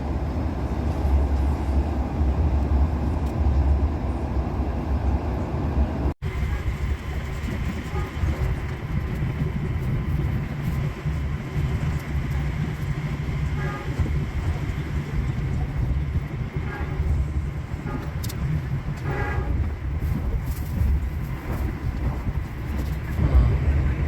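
The KA Argo Bromo Anggrek train rolls steadily along the rails with a continuous loud rumble and faint rhythmic clatter, heard from inside the carriage throughout.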